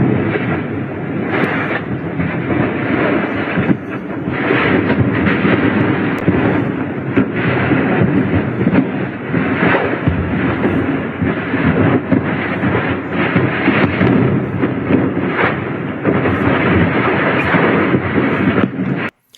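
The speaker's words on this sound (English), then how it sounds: "what you're hearing is all the weapons and ammunition cooking off after the Israeli airstrike" Continuous roar of weapons and ammunition cooking off at a Russian weapons depot in Syria after an Israeli airstrike, dense rumbling blasts and crackling pops layered together at steady high loudness, with no voices.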